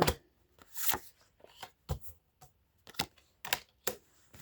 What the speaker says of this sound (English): We'll lay all these cards out right here.